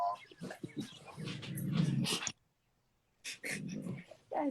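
A dog barks in several close, loud bursts, then goes quiet and barks again, with people's voices mixed in around the barking.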